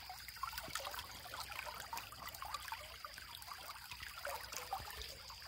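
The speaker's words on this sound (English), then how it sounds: "is a bilge pump. Bilge, whatever you want to call it. But it works." Bilge pump powered off-grid from an ATV or battery jumper, pushing stream water through a hose: faint continuous trickling flow with light bubbling, steady and unbroken.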